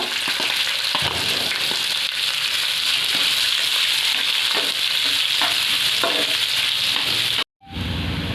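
Onion tipped into a pan of frying crushed garlic and cumin bursts into a loud, steady sizzle with scraping stirs throughout, ending abruptly in a brief silence.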